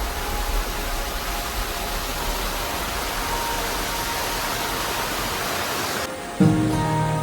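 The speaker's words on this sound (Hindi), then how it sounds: "पानी की आवाज़ बहुत ज़्यादा तेज़ है" A loud, steady roar of rushing river water near a mountain village outside Manali, a dense wall of hiss filling the whole stretch before a brief bump and slight change near the end.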